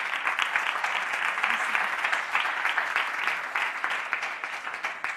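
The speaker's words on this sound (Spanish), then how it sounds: "Un aplauso para ella, por favor." Steady applause from an audience at a fashion talk in a hall, dense and even clapping that holds for the full stretch with no voices over it.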